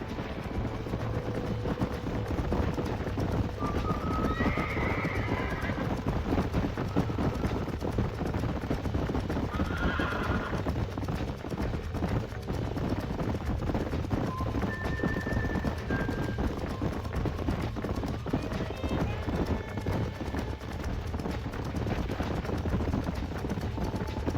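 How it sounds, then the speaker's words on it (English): Horses' hooves clip-clop steadily on a ranch in the Red Dead Redemption video game, with a few faint whinnies rising over a constant dense background of game ambience. "Whoa there! Well done, Mr. Marston. These are fine horses"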